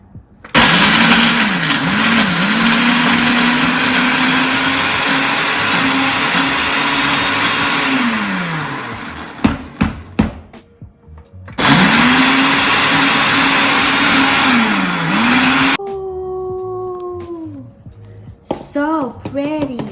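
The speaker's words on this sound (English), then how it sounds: "Now we're gonna blend this one up." A countertop blender whirs through a copycat Starbucks frappuccino in a Mason jar, running loud in two long bursts with a brief pause between, then shifting to a lower-pitched motor before cutting off.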